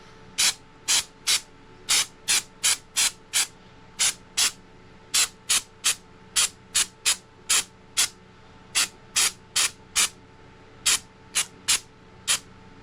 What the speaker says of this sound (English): we're going to spray this wall texture on there